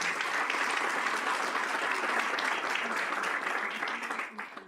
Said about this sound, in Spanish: Pido un aplauso también para ellos.